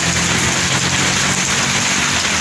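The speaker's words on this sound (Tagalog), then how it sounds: "Ayan, ang lakas ng ulan." Heavy rain pours down steadily during a delivery run, a loud, dense hiss of drops drumming on surfaces, with a faint low rumble of a vehicle beneath and no voices.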